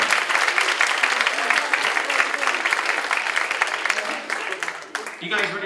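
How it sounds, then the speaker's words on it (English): Audience at a community college hypnotist show gives a loud, sustained round of applause with some cheering, tapering briefly near the end before swelling again. "Give them one more round of applause, ladies and gentlemen."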